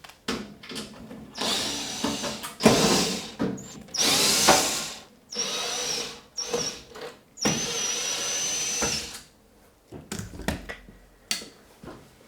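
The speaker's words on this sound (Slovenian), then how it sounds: "Odviti bo treba vse te vijake, ki držijo ohišje." Power drill unscrewing the black screws that hold an oven's casing, during a temperature sensor replacement: repeated whirring bursts of varying length, close and loud, separated by short pauses, with no talk.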